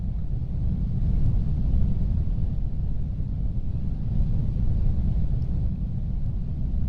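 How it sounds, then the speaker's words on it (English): Binaural wind in the video game V: SotN blows as a steady, low, rumbling rush of air that stays close and constant throughout, with no voices. "the intensity of the wind did decrease a significant amount, rather than when I turn into the wind and back out"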